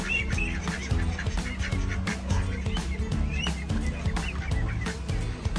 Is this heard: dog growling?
no